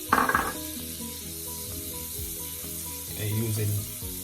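Butter and meat sizzling in a preheated pot on low heat for Jamaican steamed fish, a soft continuous crackle with light stirring scrapes, heard close and alone.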